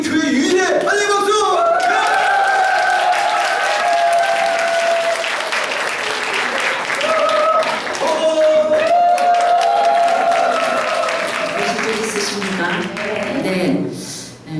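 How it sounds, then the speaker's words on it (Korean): A church congregation gives sustained warm applause to welcome a pastor, a dense, loud wash of clapping that holds steady throughout, with a voice speaking over it. "우리 김 목사님 나오실 때 뜨겁게 우리 교회 유일의 환영 박수"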